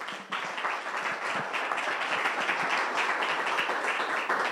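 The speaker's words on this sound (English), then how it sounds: "Give her a hand of applause." A seated audience at an evening talk in a New York gallery applauds the host, with steady, full clapping from many hands filling the room throughout.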